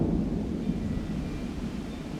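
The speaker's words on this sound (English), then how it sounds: "there's a big crack of lightning over there" Low, distant rumble of thunder rolls steadily throughout, with no voices.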